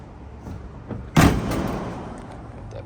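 The big, heavy door of a 1973 Plymouth Cuda with a 440 engine swings shut in a single solid thud midway through, followed by a brief settling rumble in an otherwise quiet setting.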